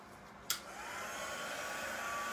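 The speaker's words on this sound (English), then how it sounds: "I'm gonna use my heat gun to move it around" Steady close whoosh of a heat gun blowing across alcohol ink art, starting with a click and a short burst, then a continuous even airflow roar throughout.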